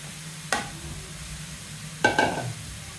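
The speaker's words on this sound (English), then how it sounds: "So all I'll just do now is to add in my carrots." Carrots tipped into spring roll filling frying in a pan, two short bursts of clatter and sizzle about a second and a half apart over a quiet low hum of cooking.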